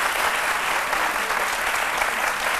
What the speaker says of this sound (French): Mais je pensais qu'on allait quand même l'applaudir